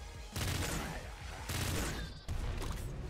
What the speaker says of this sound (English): Now we've got ourselves a super splinter gun.